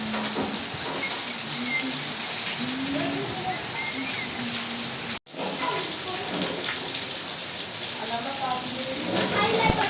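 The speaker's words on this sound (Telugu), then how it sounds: "ఒక్కసారిగానే ఇలా పెద్ద గాలి వర్షం అయితే స్టార్ట్ అయిపోయిందండి." Heavy village rain driven by strong wind makes a dense, steady hiss that stays loud and even, apart from a brief cut partway through.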